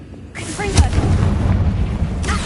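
A Confringo fire spell blasts in Hogwarts Legacy: a sudden loud boom with a crackling burst, followed by a sustained rumbling roar and a second flare near the end.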